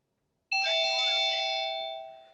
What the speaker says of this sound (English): It was a doorbell and it said front door open.